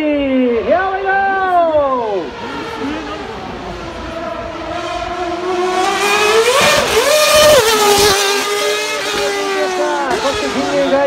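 A Renault Formula 1 car revs and accelerates on a Tokyo street course through Jingu Gaien, its loud, high engine wail sweeping up and down in repeated surges and sharp cuts, with a voice talking over it.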